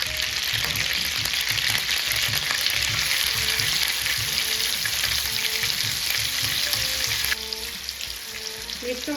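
Marinated beef frying on a hot tawa with oil and butter, a steady loud sizzle with bubbling crackle close up, easing slightly near the end.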